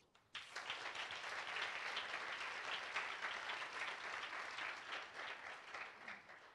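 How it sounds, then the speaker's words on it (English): An audience at a global education partnership conference breaks into sustained applause, a dense wash of many hands clapping that swells quickly and holds steady, fading slightly toward the end. "Give a huge round of applause for all of the three."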